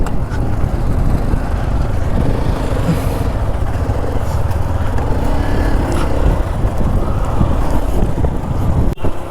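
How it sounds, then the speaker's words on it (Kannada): Strong wind at Kanyakumari beach blasts the microphone in a continuous loud, rough roar with gusting buffets, and no voices are heard. "ಗಾಳಿ ಎಷ್ಟು ಜೋರಾಗಿ ಬರ್ತದೆ"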